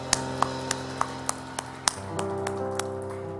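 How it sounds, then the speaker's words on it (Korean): Rhythmic clapping of a church congregation in time, crisp evenly spaced claps over sustained keyboard or organ chords, moderately loud. "하나님께 영광의 박수 올려드리겠습니다."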